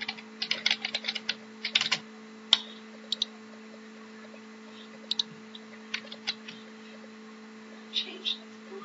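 Keystrokes on a computer keyboard come in quick irregular clusters of sharp, close clicks with pauses between, over a faint steady hum.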